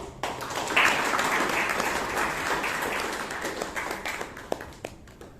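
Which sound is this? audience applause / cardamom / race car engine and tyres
audience applause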